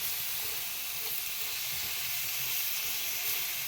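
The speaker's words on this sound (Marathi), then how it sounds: "तर आता ह्याच्यात कालवा ॲड करूची आहेत" Oysters going into an onion and tomato gravy in a hot pan, making a steady, loud, close sizzle and hiss that runs unbroken for a few seconds, with no voices.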